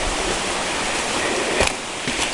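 Tessentee Creek runs steadily at a trailside campsite, a broadband rushing wash of water with no breaks, close and fairly loud, with a couple of faint brief knocks partway through.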